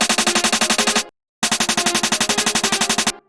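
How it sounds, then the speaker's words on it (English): Rapid 16th-note snare hits in an FL Studio drum and bass fill fire in a dense, machine-gun-like roll, cut by a brief silent gap before resuming at the same fast, even pace, loud and punchy. "have like a 16th note fill of a snare that just gradually gets louder"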